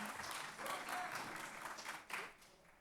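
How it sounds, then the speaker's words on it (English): Audience applause at a keynote on a university campus, a fairly quiet and brief round of clapping with some overlapping voices, rising and falling over a few seconds. "So please give them both a big round of applause and welcome."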